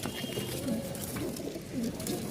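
Soft coos from pigeons, including feather-footed Rajshahi pigeons, repeat at a slow pace over a hissy, noisy background, with no voices.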